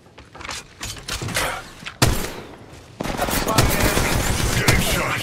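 Bursts of gunfire in the mobile battle royale Apex Legends Mobile, with scattered shots at first, then a loud sharp crack, and a sustained rapid automatic fusillade close by, with some game voice lines.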